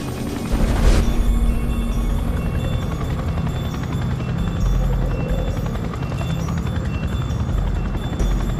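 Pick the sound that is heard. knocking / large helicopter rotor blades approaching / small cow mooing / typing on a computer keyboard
large helicopter rotor blades approaching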